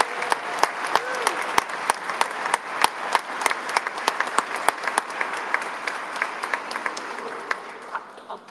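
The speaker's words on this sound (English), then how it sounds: "let's give a huge round of applause" Audience applause at an autism advocacy day event, steady clapping with distinct loud individual claps standing out, sustained for several seconds and fading slightly at the end.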